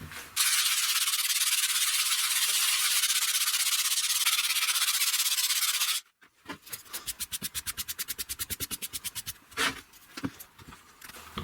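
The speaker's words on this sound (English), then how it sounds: "I'm going to find a piece of sandpaper. I'm going to do what it says. I'm going to rub it down. I'm going to polish off the top," Sandpaper of 60 grit rubs down the top of a stone block, first a loud continuous grinding scrape, then a quick run of rhythmic back-and-forth strokes, all close and without talk.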